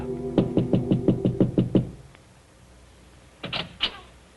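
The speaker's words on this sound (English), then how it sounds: "there is a soft knock at his door." A soft, rapid series of about eight knocks on an apartment door, muffled and close, followed by silence and then a few brief louder thuds or clicks near the end.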